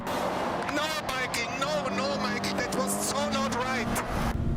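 Race car engine in Gran Turismo 7 roaring past, pitch sweeping as it flies by, with other engines and tire noise layered under a continuous voice talking over the game.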